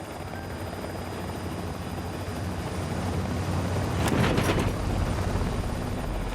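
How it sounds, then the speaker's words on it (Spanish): A helicopter flies over icy mountain peaks, its rotor and engine roaring steadily and loudly throughout, swelling briefly near the end, with no voices. "a medida que el helicóptero volaba sobre las montañas"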